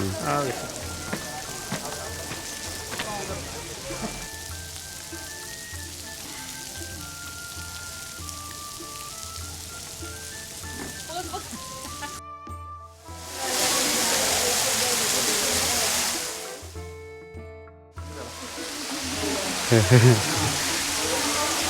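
A garden fountain at Saheliyon Ki Bari in Udaipur, Rajasthan, sprays water down like rain around a white marble canopy. After a stretch of mixed background sounds, the steady rushing hiss surges in loudly, briefly cuts out, then returns.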